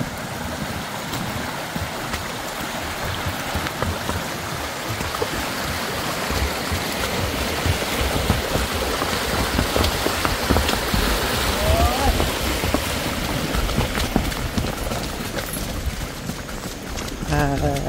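Floodwater rushes across a flooded farm, a continuous loud roaring wash heard close up for the whole stretch, with occasional voices mixed in.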